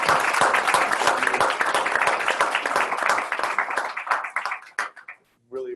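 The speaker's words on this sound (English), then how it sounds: "let's give them a round of applause" Dense applause from a symposium breakout session audience, steady and loud for several seconds before thinning into a few last claps, followed by a brief voice.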